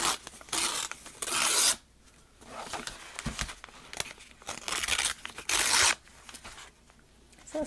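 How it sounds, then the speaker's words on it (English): Paper ripped by hand for a card collage: several loud, dry tearing bursts, each lasting about a second, with quieter rustling and handling between them. "And I'm going to do the same with my paper. I just leave it and rip some of it off."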